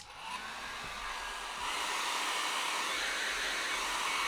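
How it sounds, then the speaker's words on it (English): A handheld hairdryer blows steadily while heating a plastic edging strip, a close, continuous whooshing roar that swells slightly partway through and holds alone with no talk. "Now I'm going to heat this up a little bit using my hairdryer, because that'll allow it to bend a little bit easier as well."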